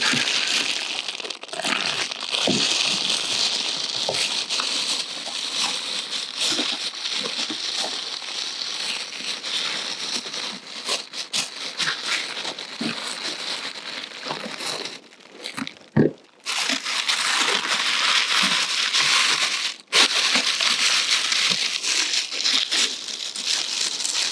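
Packing tape being pulled and torn off the cardboard box of a 1600W double induction hob, with continuous close crinkling, ripping and crackling that runs on at length and breaks off briefly twice.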